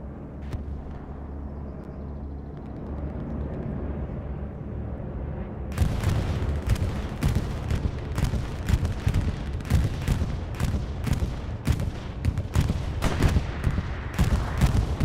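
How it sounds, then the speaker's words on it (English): Bombing run explosions in Hell Let Loose begin after a quiet stretch, a steady string of sharp, loud blasts and booms hitting in rapid succession for several seconds. "Bombing run going through A network."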